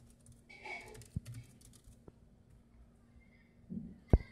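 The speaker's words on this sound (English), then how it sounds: "The keys are smooth and has of click sound also." Keys clack faintly on an RDP Thinbook 1430 14-inch laptop keyboard, a few sparse clicks and taps spaced out over quiet room background.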